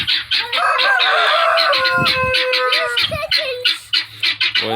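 Chickens and guinea fowl on a farm raise a loud, close racket of clucks, squawks and crowing, overlapping calls with sharp bursts and harsh rattling cries, continuous throughout with no talking.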